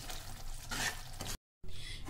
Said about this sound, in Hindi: और अब हम इसको अच्छी तरह से चला देंगे।